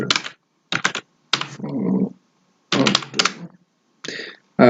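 Someone types on a computer keyboard in short bursts of rapid clicking keystrokes separated by brief pauses, close and clear in a quiet room.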